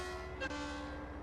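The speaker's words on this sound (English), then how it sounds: "We'll give it a little toot on the whistle." Train horn of a BR 406 ICE 3M high-speed train in Train Sim World 2, a steady multi-tone blast held for over a second, loud and close, with no talking.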